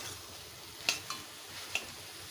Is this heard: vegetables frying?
yes